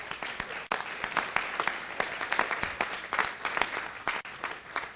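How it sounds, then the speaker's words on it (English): Steady applause from the audience at a city council meeting as football league coaches come forward, dense clapping filling the room throughout with faint voices beneath. "Let's give them a round of applause as they come."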